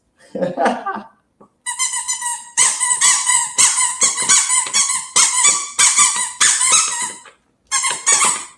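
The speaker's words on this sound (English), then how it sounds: "The sound is slightly different between these squeak toys." Squeaky toys are squeezed again and again, giving loud, high, piercing squeaks in repeated bursts of about half a second each, with short gaps between them and a brief voice sound at the start.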